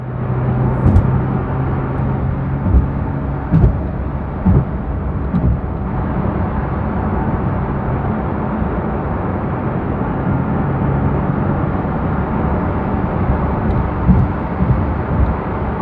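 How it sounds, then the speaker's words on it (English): Inside a Porsche 992 GT3 Touring on the move, a steady broadband roar of tire and road noise fills the cabin, with a low engine hum and occasional faint thumps from the road surface. "What we'll do now is we'll take it for a drive and get a road noise test."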